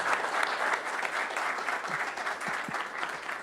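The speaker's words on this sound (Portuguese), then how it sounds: "acho que o pessoal merece um aplauso" Audience applause at an event presentation on ICOs as a fundraising method, a steady wash of many hands clapping at moderate distance, sustained evenly throughout with no talk over it.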